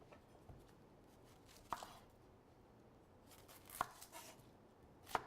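Lemon, garlic and cherry tomatoes being roughly cut on a board for a roasted veggie dip, three sharp knife chops spaced well apart over a faint quiet background, no voices.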